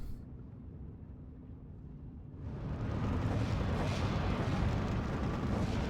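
An artillery shell slams into a tank in Steel Division 2 and destroys it, a low rumbling blast that swells after a quieter opening and rolls on loudly to the end, with no talk.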